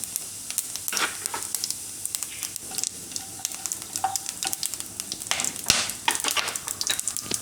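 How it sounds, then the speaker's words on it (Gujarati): Cumin seeds and whole spices sizzle and crackle in hot oil for a green chickpea pulao, with bursts of sharp popping spread over a steady hiss, some louder spatters near the end. "પહેલાં આપણે એમાં જીરું નાખીશું અને બધા આપણે આખા મસાલા નાખી દઈશું"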